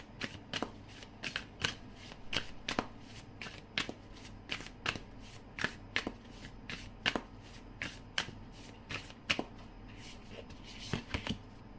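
A tarot card deck being shuffled by hand, a steady run of crisp riffling bursts about every half second, close and moderately loud, with faint room hiss between.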